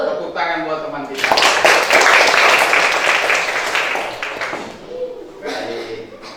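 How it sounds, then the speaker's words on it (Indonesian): Elementary school pupils in a classroom at SD YPPK St. Agustinus Fakfak clap for a classmate: a lively burst of many hands that swells after a voice, holds for a few seconds, then fades as talking resumes. "Tepuk tangan buat teman kita."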